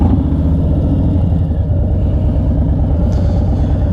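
Engine of a 2022 Harley-Davidson Low Rider S motorcycle running steadily, a deep, loud, continuous rumble with a throbbing low pulse and no talking.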